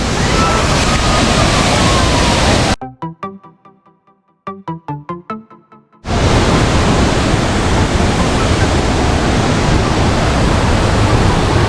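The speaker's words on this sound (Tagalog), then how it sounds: "pakita ko muna sa inyo yung falls" Bolinao Falls in Pangasinan, a loud, dense roar of falling water, cut off for a few seconds by a burst of rhythmic clicking tones before the roar returns and continues.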